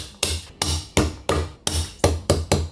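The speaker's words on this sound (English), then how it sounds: "Finely chop the garlic." A knife finely chopping garlic on a cutting board makes seven sharp, close, evenly spaced strikes, each ringing out briefly before the next.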